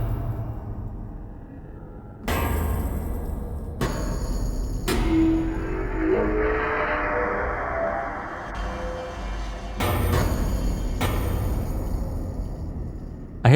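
A synth patch played on a Roli Seaboard Rise 2 keyboard gives sustained, harmonically rich chords. New notes strike every few seconds, with a swelling, evolving tone in the middle stretch.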